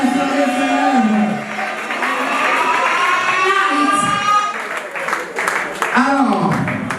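Guests at a Congolese wedding in Ohio cheer, shout and applaud the bride in a loud, continuous crowd roar, with whoops rising over a dense wash of clapping and voices.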